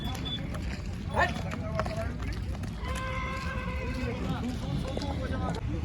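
Horses whinny and neigh over a constant noisy background at the Pushkar fair, with people's voices mixed in.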